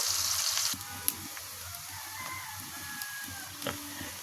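Chopped onions frying in oil in a home kitchen while a Bengali beef and taro dish is cooked, a steady close sizzle with a few clinks of stirring and a rooster crowing faintly in the background.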